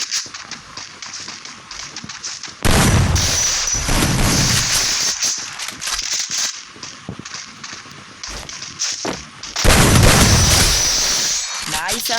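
Rapid gunfire from an M188 in a shooting video game, loud bursts of automatic shots in two main volleys with scattered single cracks between them, and someone talking over the action.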